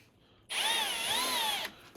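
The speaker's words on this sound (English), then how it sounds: "I'm just going to use a 9mm drill bit in my battery drill" A cordless drill with a 9mm bit drills a steel flywheel ring gear from a classic Mini, whining at high pitch for about a second, the motor tone wavering slightly under load, near and alone after a quiet start.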